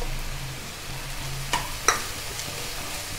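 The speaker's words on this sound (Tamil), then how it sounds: "கேரட்டும் பீன்ஸும் கொஞ்சம் வதங்கிடுது" Carrots, beans and cabbage sauté in a pan, giving a soft continuous sizzle with a few sharp clinks and scrapes of stirring, close and moderately quiet.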